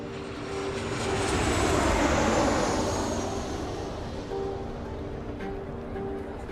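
An American Airlines airliner's engines roar steadily at close range on an airport apron, a broad sustained rumble that swells and slowly eases off, with no voices.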